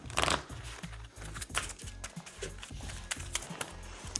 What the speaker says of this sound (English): Give that a shuffle.